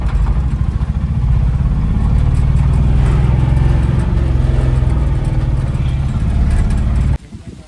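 A car climbs a hill toward a house in Palakkad district, Kerala. Its engine drones loud and close, holding a steady strained note before cutting off abruptly near the end.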